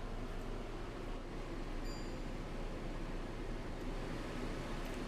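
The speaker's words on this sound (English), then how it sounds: "This is how loud the fan is on low." A EUHOMY 10K BTU portable air conditioner runs its fan on the low setting, a steady, broadband whooshing hum that stays constant and unbroken throughout, with no talking.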